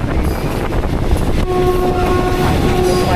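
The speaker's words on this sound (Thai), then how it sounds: "รถไฟมาแล้วครับ" A train on the Death Railway at Tham Krasae, Thailand, rumbles past loudly and steadily, then its horn sounds a sustained multi-tone blast partway through and holds to the end.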